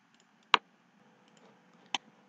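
Two sharp, isolated computer mouse clicks about a second and a half apart, close and dry, while drawing in AutoCAD.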